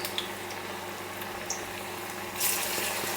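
Onion fritters frying in sunflower oil, a steady close crackling sizzle throughout with a brief louder hiss near the end.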